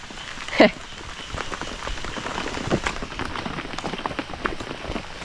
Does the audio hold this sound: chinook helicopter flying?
no